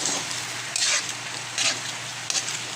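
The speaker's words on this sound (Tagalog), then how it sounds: "Halo-halo lang sa hipon." Shrimp fry in a pan for garlic and catsup sauce, a steady close sizzle with a few brief louder scraping swishes as the pieces are stirred, no voices.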